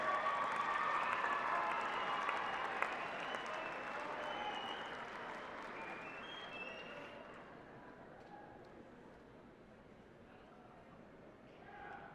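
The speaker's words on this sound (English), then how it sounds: "Give them a big round of applause." Graduates at a university fall commencement ceremony applaud their families in the stands. The clapping fills a large hall at moderate distance and slowly thins and fades toward the end.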